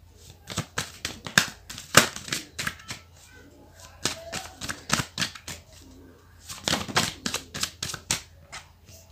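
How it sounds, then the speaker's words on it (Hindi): Tarot cards are shuffled up close in quick irregular bursts of sharp flicking and riffling, separated by brief pauses. "जब तक मैं कार्ड शफल करूं"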